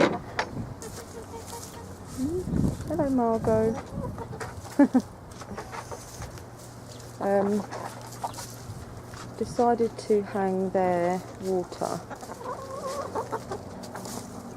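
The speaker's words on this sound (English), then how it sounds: "I heard the chickens making a racket" Backyard hens cluck in bursts, with rising calls close by, while a person talks to them between the clucks.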